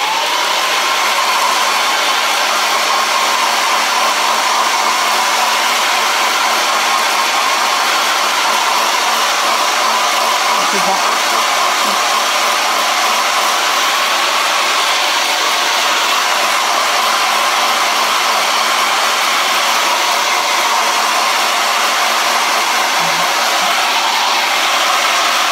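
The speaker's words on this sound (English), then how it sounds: "just gonna hit that with a little bit of heat from the hairdryer, so excuse the noise for the moment" A hair dryer blows steadily at close range, a constant loud whooshing hum that never lets up.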